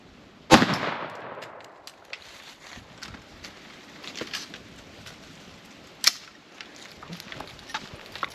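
Standard 5.56 ball rifle rounds strike AR500 steel plate outdoors, two sharp loud cracks spaced several seconds apart over faint background ambience, with smaller ticks between.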